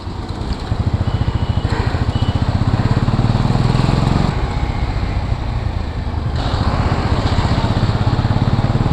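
A motorcycle engine chugs with a steady, close, loud pulse as the rider sets off, the revs rising and dipping in a few changes across the ride, with no talking.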